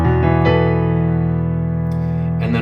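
Piano sounds right-hand notes from a song, a sustained chord ringing steadily with a light extra note near the end, close and clear with no talking.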